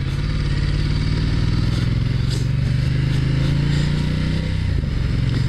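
A Ducati XDiavel motorcycle rides off, its engine a steady, close, loud droning rumble with a slight rise in pitch as it pulls away, wind noise over it.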